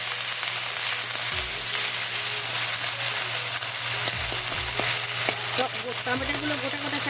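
Whole brinjals slit down the middle sizzle and crackle in hot oil in a pan, a steady close fry broken by occasional thuds and scrapes as they are turned and sautéed, with no talking.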